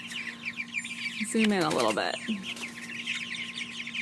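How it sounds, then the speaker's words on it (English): Young chicks peeping in a backyard flock, a steady chatter of high chirps with a brief louder squawking burst in the middle, someone speaking over them. "And here are the little chicks."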